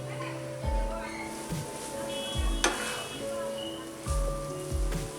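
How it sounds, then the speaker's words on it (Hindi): Grated khoya roasting in a pan over a low flame, a soft continuous sizzle broken by repeated scraping strokes of a stirring spoon, close and steady. "हल्की फ्लेम पर हम इसको हल्का हल्का भूनेंगे चलाते हुए"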